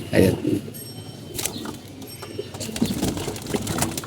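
Pigeons sunning on a rooftop, soft throaty coos close by in short bursts, with faint chirps and some rustling in the background.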